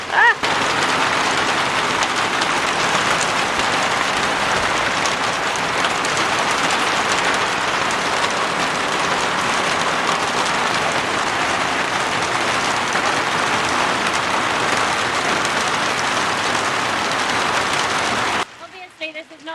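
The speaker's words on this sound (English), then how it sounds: "we've had a bit of an unexpected downpour" Heavy rain pours down in a dense, constant roar for a long stretch on a partly roofed outdoor living space, then cuts off abruptly, leaving quiet near the end.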